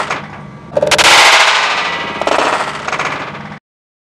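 Electromagnetic can crusher coil discharging during coil tests: a sharp, loud metallic bang-like burst with rapid crackling that rings on for a few seconds before cutting off abruptly.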